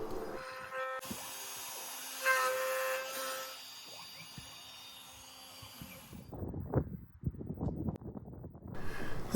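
CNC router bit milling white oak and walnut for sliding dovetails, a fairly quiet high whine with shifting pitch, then clattering bursts and scraping noises toward the end.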